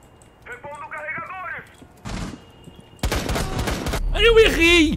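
Gunshots ring out in a ranked Rainbow Six Siege match: a few scattered cracks, then a dense burst of close automatic fire that builds toward the end, mixed with game sounds.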